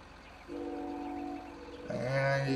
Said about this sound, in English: And you can probably hear the train.